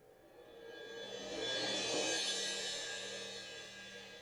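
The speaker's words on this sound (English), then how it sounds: "I really like to use samples of suspended cymbals." Sampled suspended cymbal rolls, two layered together, swell from a soft shimmer to a broad washing peak and then fade slowly, with a low sustained tone underneath.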